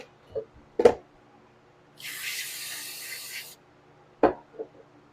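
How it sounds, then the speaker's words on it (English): Brake cleaner sprays in one steady hissing burst of about a second and a half onto the carburetor of a Honda GX200 engine on a Simpson pressure washer, framed by a few sharp clicks and knocks from handling the can and part. "I'm just going to clean it up, spray it out, use compressed air to blow it out"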